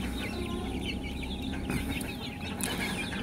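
Chickens and roosters kept in a cage cluck in a continuous, fairly quiet chatter, with no one speaking.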